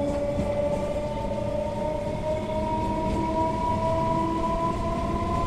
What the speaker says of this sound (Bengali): তো ট্রেনটা যে গেদে ঢুকছে, গেদে স্টেশনে।